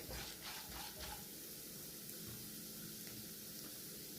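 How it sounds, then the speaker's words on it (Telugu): Urad dal and tempering spices fry in hot oil for an upma, a steady, soft sizzle and crackle with faint stirring scrapes early on, continuous and fairly quiet throughout. "ఇప్పుడు ఈ పోపు వేగనీయాలి"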